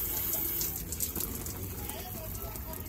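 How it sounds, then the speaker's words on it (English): A tap running water in a greenhouse, a steady close rush of flowing water, moderately loud and continuous with a high electrical whine above it. "Let me turn off this water."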